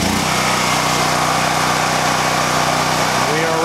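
Predator generator engine running just after starting, a loud, close, steady idling drone with a chugging low rumble throughout.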